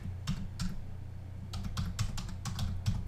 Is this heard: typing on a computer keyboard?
yes